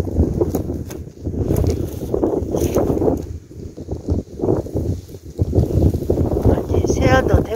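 Strong wind gusting outdoors beside the Seomjin River near Hadong, a steady rumbling buffet against the microphone that rises and falls throughout, with a person talking over it.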